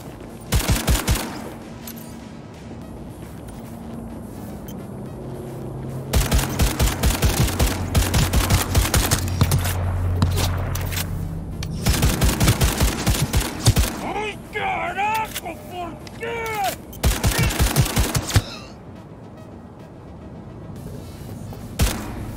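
Bursts of rapid smartgun fire in Cyberpunk 2077 rattle in several long volleys separated by pauses, with electronic tones and a voice talking between them.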